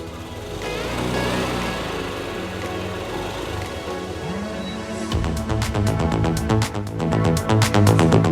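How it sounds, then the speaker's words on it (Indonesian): Yamaha NMAX scooter engine idles after a DIY cam chain tensioner replacement, a steady close mechanical hum that grows louder and more rapidly pulsing partway through. "Oke, mesin udah nyala, coba kita dengerin lagi. Oke, suaranya udah halus lagi ya."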